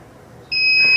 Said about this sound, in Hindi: एक बीप की आवाज़ आएगी